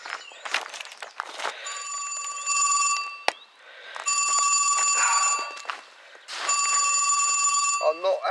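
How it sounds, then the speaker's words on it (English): A telephone rings in repeated long electronic bursts with short gaps between them, loud and close, over clattering handling noise at a fishing spot. "I'm not answering the damn phone at the moment."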